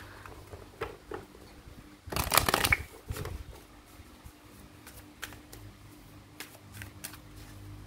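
A single playing card is drawn from a deck during a tarot-style reading, a brief burst of card shuffling and sliding near the mic, set among quiet room noise with a few faint taps before and after.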